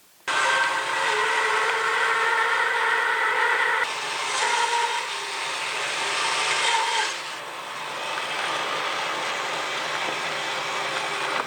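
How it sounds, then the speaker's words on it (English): A bandsaw cuts through green bull oak timber, a loud close steady rasping whine that swells and eases as the piece is fed through, with no speech. "I can stand it up and put it through the bandsaw like so"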